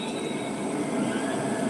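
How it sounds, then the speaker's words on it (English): A train rolls past near the woods, a steady broad rumble with faint high wheel squeal, continuous and moderately distant, no voices. "That's just a train."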